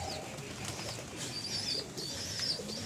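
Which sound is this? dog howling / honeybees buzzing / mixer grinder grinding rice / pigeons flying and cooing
pigeons flying and cooing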